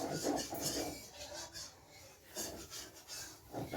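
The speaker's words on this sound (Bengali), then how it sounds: "আর এখন আমি শিলনোড়া দিয়ে চালগুলো গুঁড়ো করে নিচ্ছি" Rice is ground by hand on a stone slab with a grinding stone, making quiet, rhythmic rasping strokes that rub back and forth in short repeated bursts.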